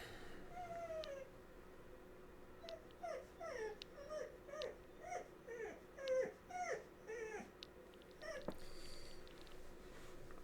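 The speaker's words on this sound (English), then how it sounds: "This dog is never gonna stop crying" A dog whimpers and cries in a series of short, rising whines, fairly faint and repeating steadily over a quiet background with no talking.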